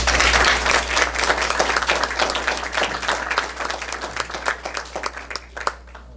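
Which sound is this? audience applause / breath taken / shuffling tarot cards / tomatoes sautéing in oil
audience applause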